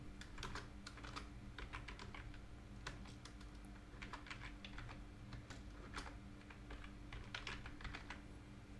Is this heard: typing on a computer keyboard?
yes